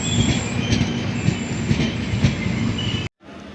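A moving train rumbles steadily with rhythmic wheel clatter and a faint metallic squeal, then cuts off abruptly near the end.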